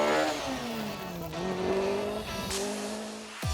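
Ford Cortina rally car crewed by Bob Bean and Malcolm Smithson on a Pirelli Rally special stage: a loud, close engine note shifting pitch as it revs, with tire squeal and a sharp change near the end as it passes.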